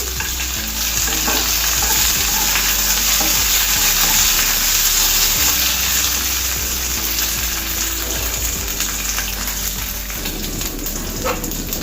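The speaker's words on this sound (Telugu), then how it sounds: "ఈ పచ్చిమిర్చి మొత్తం కలర్ చేంజ్ అయ్యే వరకు వేయించుకోవాలి." Green chillies frying in a pan, a loud, dense, continuous sizzle like heavy rain, with occasional stirring scrapes up close and no talk.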